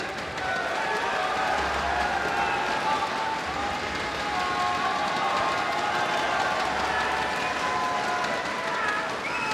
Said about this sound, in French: on va demander d'un applaudissement pour Françoise Larreur qui va venir sur scène